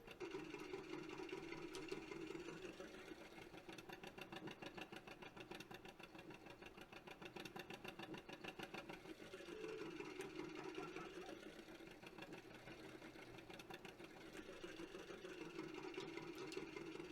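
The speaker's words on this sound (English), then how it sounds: "This tractor is super fast." An old tractor engine chugs steadily in a farming video game, a continuous mid-pitched diesel drone with a fast mechanical throb that swells and eases slightly, faint and alone with no talking.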